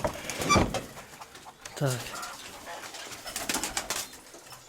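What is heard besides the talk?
pigeons and squabs cooing in a pigeon loft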